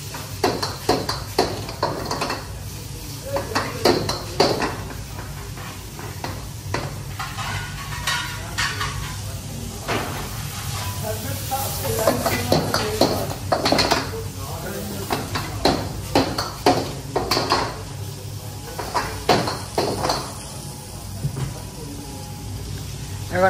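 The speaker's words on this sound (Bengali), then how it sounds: "এখন শেফ রাঁধতেছে।" A chef stirs and fries Italian pasta in a pan in a restaurant kitchen, with steady sizzling, clinks of utensils and scraping stirs throughout, under intermittent nearby talk.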